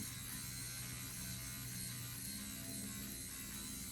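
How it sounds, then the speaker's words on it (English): Electric shaver running for facial dermaplaning, shaving fine vellus hair, giving a continuous faint buzzing hum with no voices over it. "now that we're at a closer zoomed up view, we have our electric shaver"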